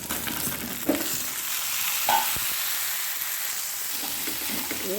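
Ivy gourd pieces sizzle steadily in a hot pan for a masala curry, with a few scraping stirs of a spoon cutting through the continuous frying hiss.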